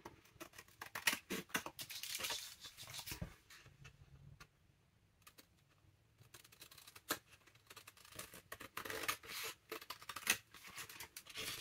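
Scissors snipping through junk mail paper in bursts of sharp, close cuts with short quiet pauses between, crisp blade crunches and light paper rustle, no voices.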